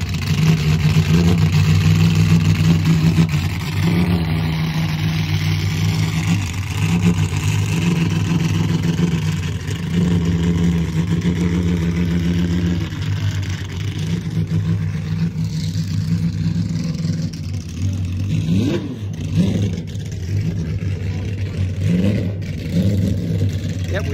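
A 1981 Porsche 930 Turbo engine rumbles and revs outdoors at a concours event, a sustained loud drone with rising and falling pitch through the run, while people talk over it.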